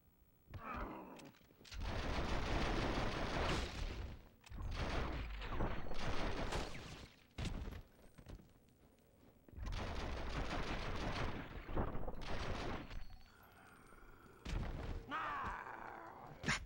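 Gunfire in the video game The Matrix: Path of Neo, several dense bursts of shots lasting a few seconds each, separated by short quieter gaps, fairly loud with no talk over them.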